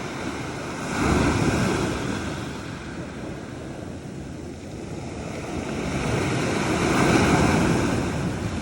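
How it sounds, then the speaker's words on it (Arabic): Sea waves break and wash over a rocky stone shore in Spain. The surf swells loudly twice and then recedes into a steady rushing roar, with some wind buffeting the microphone. "كتجي موجه وكتمشي موجه، عاود كتمشي موجه وتجي موجه اخرى"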